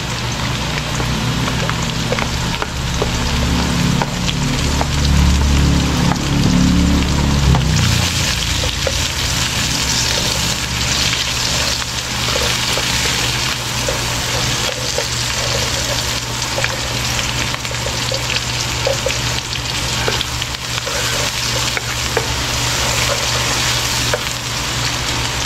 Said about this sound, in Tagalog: mag-gisa tayo ng bawang sibuyas